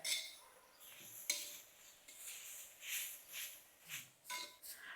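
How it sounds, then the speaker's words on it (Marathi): Radish pieces roast in a little oil in a home kitchen pan, with light metallic clinks and scrapes of a spatula stirring at close range over a quiet, steady background. "आता आपल्याला वरतून ना थोडंसं तेल टाकायचंय आणि परत आपल्याला मुळा चांगला असा भाजून घ्यायचा आहे"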